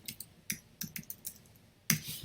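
Keys on a computer keyboard are typed in a few quick, light clicks spaced irregularly, close and fairly quiet, ending with one louder clack.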